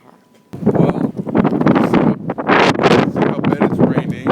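Gusty wind on a rainy day outdoors, a loud, close, broadband rush that buffets the microphone in uneven surges for about four seconds after a brief quiet start.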